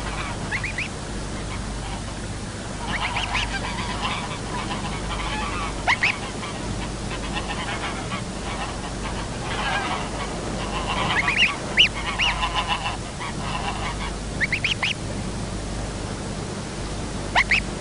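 Flocks of pink-footed geese honk across the Þjórsárver wetlands in Iceland, a distant, continuous chorus of overlapping calls with occasional nearer honks under steady wind-like noise.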